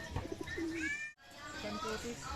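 A racing pigeon in a mango tree coos softly a few times at a distance, with chirpy birdsong and faint background noise around it.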